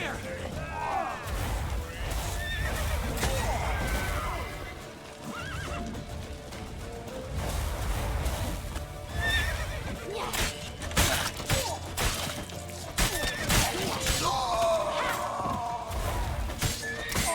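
A horse in The Witcher 3 video game neighs and whinnies repeatedly amid clip-clopping hooves, thuds and crashes during a busy chase, with game voices shouting over the action throughout.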